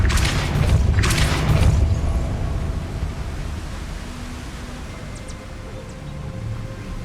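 Spell effect for Depulso, the force-push charm in Hogwarts Legacy: a loud whooshing burst with a deep booming rumble up front, fading into a sustained noisy wash with faint chimes, no talk.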